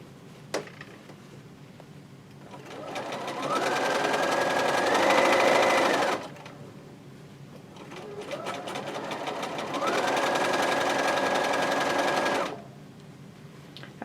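A sewing machine runs stitching a quilt seam in two sustained bursts, each speeding up to a steady whirring buzz with a rising motor tone, separated by a short pause, close and fairly loud.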